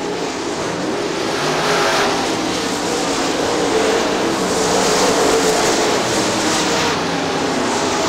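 Super late model race cars roar steadily around Crystal Motor Speedway, a dense, continuous engine drone with no gaps, loud and sustained throughout as the pack circles the track.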